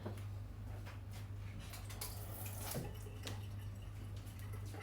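Tap water runs steadily over a kitchen thermometer used for sourdough dough, a soft continuous splashing stream with a low hum behind it.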